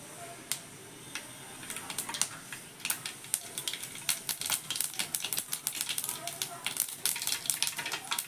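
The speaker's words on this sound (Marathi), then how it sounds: "तेल आपलं तापलं आहे त्यात मोहरी टाकली" Mustard seeds pop and splutter in hot oil in a home kitchen pan while festival vegetables are being prepared, a dense run of sharp crackles that builds and grows busier, with faint talk underneath.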